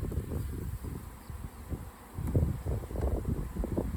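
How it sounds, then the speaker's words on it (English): Low, dense buzzing of many honey bees swarming close by while hive frames are checked, steady with some swells in loudness, faint wind noise on the microphone. "I'm covered in bees."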